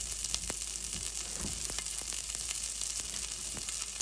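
Sausages fry in a pan for a quesadilla, a steady close sizzle with scattered crackles and pops and the odd clink of a utensil stirring, no voice over it.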